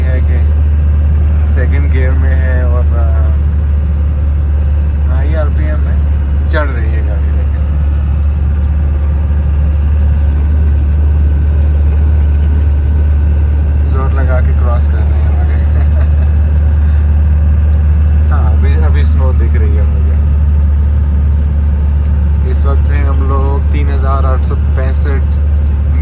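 A classic Toyota BJ40 climbs a mountain road in second gear at high RPM, its engine droning loud and steady throughout while someone talks over it intermittently.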